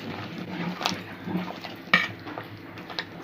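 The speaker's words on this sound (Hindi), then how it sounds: "और अच्छे से हिला लेंगे" A spoon scrapes and clinks against a metal pot as thick kadhi with pakoras is stirred, with soft sloshing between a few sharper knocks.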